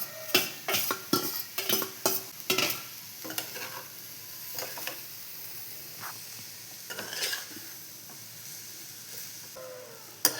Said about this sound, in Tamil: இப்போ சூடான சாதத்தை அதோட சேர்த்துக்கோங்க. இப்போ போட்டு கிளறுங்க